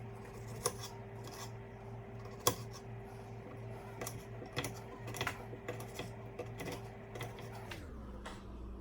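Knife cutting ribeye steak for a chop sandwich on a cutting board, with irregular sharp chops and taps close by over a steady hum from the kitchen, which drops off near the end.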